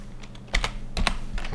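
Keys pressed on a computer keyboard during a Windows setup: a few sharp, close clicks in quick pairs, with faint lighter taps between, and no talking.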